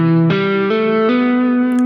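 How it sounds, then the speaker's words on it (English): A distorted electric guitar plays a quick hybrid-picked phrase with hammer-ons, its notes stepping upward in a few bright, sustained, buzzing tones, loud and close, with no talking. "one pattern that I do a lot is I'll do downstroke, hammer-on, hammer-on, downstroke, hybrid pick, hammer-on, hammer-on"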